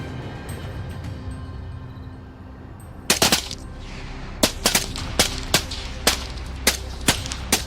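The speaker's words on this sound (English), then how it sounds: "the sound of gunfire continues" Sharp gunshots ring out in an irregular series during a night hunt for wild boars on a farm, some in quick bursts, over a quiet outdoor background.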